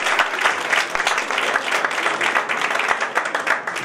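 An audience at a Malian awards ceremony gives a dense, lively round of applause for an honoree. Many hands clap close together, loud and sustained throughout.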